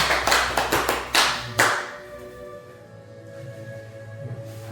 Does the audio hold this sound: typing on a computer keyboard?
no